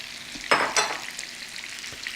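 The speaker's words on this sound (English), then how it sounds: "Now again, you just want to saute these until they're cooked down." Sliced white mushrooms sizzle softly in a hot pan on a lowered flame, with two quick bursts of stirring scrapes over a faint, steady frying hiss.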